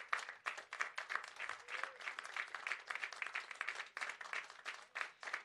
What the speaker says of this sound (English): let's stand up and face your family and friends and give them a round of applause